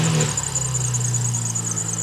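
A 2008 BMW 335i with the N54 engine and a faulty AC compressor cranks and catches in a brief loud burst, then settles into an idle with a thin, steady high whine, heard close.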